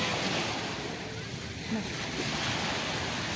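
Sea waves washing onto a beach, a continuous broad surf roar with wind noise on the microphone, fairly close, with faint voices underneath.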